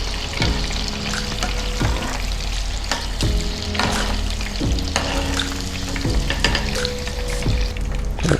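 Panko-coated shrimp sizzle and crackle loudly in hot oil in a pot as a deep fry goes on, with a few clinks of utensils and no voices.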